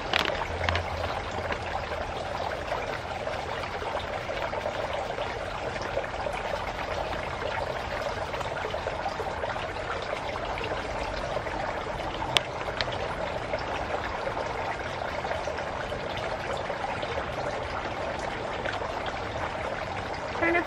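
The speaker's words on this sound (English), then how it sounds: "then slowly pour without ruining the blooms" Silica gel desiccant poured slowly over rare epiphyllum blooms in a container, giving a steady, continuous granular hiss and trickle that runs nearly unchanged throughout, close and moderately loud.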